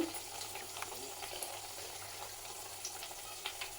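Sweet corn vadas deep-frying in oil, a quiet continuous bubbling sizzle with small pops and crackles, close by and no voices.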